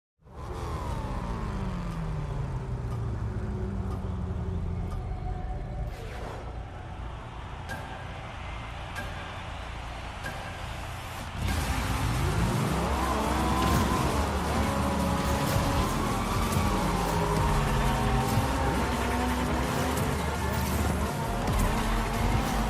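Rocket-powered cars race in Rocket Racing, a Rocket League spin-off, with sustained engine roars and pitch-shifting whooshes as vehicles pass, which grow louder and denser partway through, over a steady, busy game mix.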